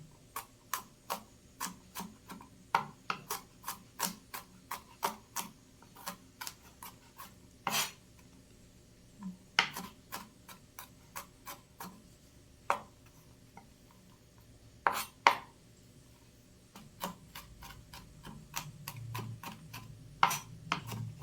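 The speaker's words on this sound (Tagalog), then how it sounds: "Pipinuhin po ulit natin yung pag-aano ng bawang." A knife finely minces garlic on a cutting board, tapping out quick, irregular, crisp strokes in bursts with short pauses. The sound is close and quiet, with no talking.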